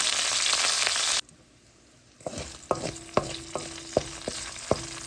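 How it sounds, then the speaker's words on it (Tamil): Garlic sizzles in hot oil with mustard seeds, fennel, dried chillies and curry leaves. Loud frying gives way to a brief hush, then a spoon clacks sharply against the pan several times over a soft hiss. "இப்போ பூண்டு வதங்கிட்டுது."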